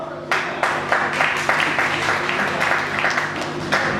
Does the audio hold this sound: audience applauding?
yes